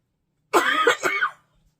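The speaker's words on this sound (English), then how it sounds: "I need to cough, excuse me." A single harsh cough, close and fairly loud, breaking into two bursts, with silence before and after.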